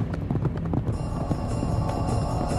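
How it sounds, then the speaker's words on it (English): Fast horses carrying pursuing soldiers gallop in a rapid, continuous clip-clop of hooves, close and fairly loud, with no voices over them. "Their fast horses were gaining steadily."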